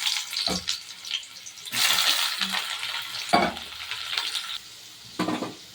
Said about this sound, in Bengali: এবার আমি পেঁয়াজ কুচিগুলোকে দিয়ে দেবো